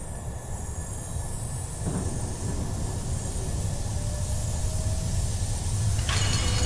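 Runaway train with sabotaged brakes in a video game, a steady loud rumble of rolling wagons and rail noise throughout, with a thin wheel squeal and a brief surge of brake hiss near the end, no talk.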